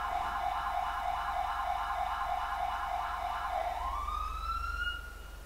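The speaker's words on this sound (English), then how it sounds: "So you can hear the other siren tones now." Police sirens in the game GTA World wail in a steady, rapidly pulsing tone that then shifts into a rising sweep, heard at moderate distance without talk.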